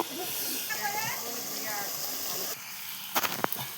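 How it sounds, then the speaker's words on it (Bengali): Water gushes and hisses as it is poured into a cooking pan of fried spices for a soybean curry, a steady wash under a voice, ending with a few clatters. "মশলা কষানো হয়ে গেছে, এবার জল দিয়ে দেবো"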